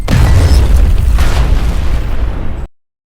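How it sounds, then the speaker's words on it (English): Sticky bombs detonate in a multiplayer shooter match, a loud, deep booming blast with rumbling that sustains for over two seconds before cutting off abruptly. "recruit Fletcher, toss out those sticky bombs, and play dirty"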